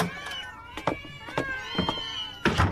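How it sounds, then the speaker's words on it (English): Several cats meowing in an animated series, a quick run of short high meows one after another, close and fairly loud, with a voice talking over them. "Kitties, kitties, kitties! And more! They're everywhere!"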